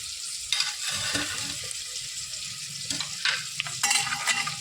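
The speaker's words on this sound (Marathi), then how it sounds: "आणि चांगलं असं एक मिनिटासाठी परतून घ्यायचं आहे त्याचे मसाल्याचं फ्लेवर त्यामध्ये उतरायला हवं" Whole spices and biryani masala sauté for mutton biryani in a pan, a steady sizzling hiss broken by a few scraping stirs of a spoon, close and moderately quiet, with no talk.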